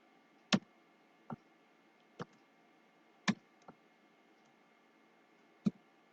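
A computer mouse clicks six times in a quiet room, each click sharp and close, spaced irregularly about a second apart, with two of them coming in a quick pair.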